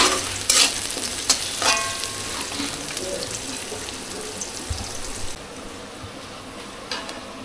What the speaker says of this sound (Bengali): দিয়ে দেবো কুচানো পেঁয়াজ। পেঁয়াজটা ভালো করে ভেজে নেব